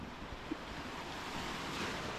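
Waves rolling onto a Thai beach at Siam Bay, a continuous close rush of surf mixed with wind buffeting the microphone, with no voices.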